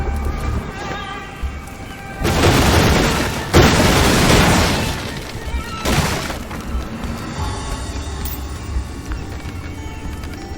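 Objects bursting apart in a chain reaction set off by the Inflame spell in the game Graven: two loud, close crashing blasts of shattering debris a second apart, followed by a lighter burst and quieter rumbling.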